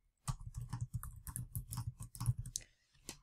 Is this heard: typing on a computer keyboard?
yes